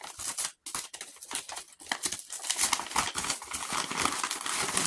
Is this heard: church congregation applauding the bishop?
no